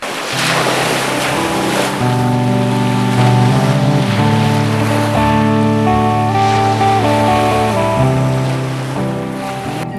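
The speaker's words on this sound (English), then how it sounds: "We're gonna go out in Rob's boat today, just kind of mess around" A droning motorboat engine running steadily over water, with wind rushing across the microphone throughout; no talking.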